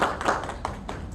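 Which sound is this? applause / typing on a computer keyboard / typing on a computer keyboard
applause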